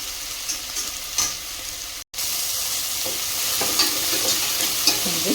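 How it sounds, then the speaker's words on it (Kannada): Vegetables frying steadily in a hot pan for dal khichdi, a continuous close sizzle with occasional stirring scrapes and a brief dropout partway through, no voices. "ಈಗ ಇದು ಚೆನ್ನಾಗಿ ಫ್ರೈ ಆಗಲಿ."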